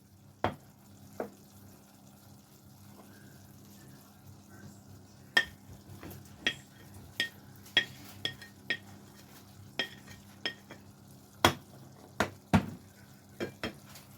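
A spoon stirs okra milk curry together with sautéed onions in a pan, clinking and scraping against the metal in a steady run of sharp knocks, some louder than others, with no talking.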